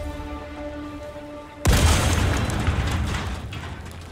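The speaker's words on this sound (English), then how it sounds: "Rolling grenade!" A thrown grenade detonates in the co-op shooter Helldivers 2, a sudden loud boom after a quiet humming stretch, followed by a sustained roaring rumble that slowly fades.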